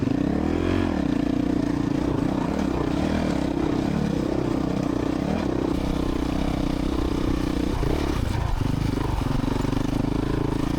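A racing motorcycle at a Flat Rock track round accelerates after a shift into third gear, its engine droning loud and steady close up as it runs, with rattling, wind-buffeted noise and no voices.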